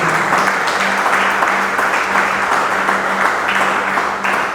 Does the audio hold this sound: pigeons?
no